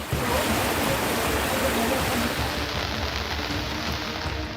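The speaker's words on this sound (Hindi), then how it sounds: "केसरी नदी का पानी पुल के ऊपर से बह रहा है" Flooded Kesari river in Ratnagiri, Maharashtra, rushing over a bridge after heavy rain, a loud continuous roar of churning water filling the whole clip.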